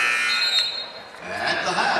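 A loud, sustained end-of-half buzzer blares in a high school basketball gym, a harsh steady tone mixed with crowd noise and a commentator talking over it.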